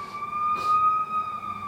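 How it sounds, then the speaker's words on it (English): An emergency vehicle siren sounds outside as a steady high wailing tone, held throughout at moderate distance over low background rumble. "I can't even talk through your video because his sirens is going off"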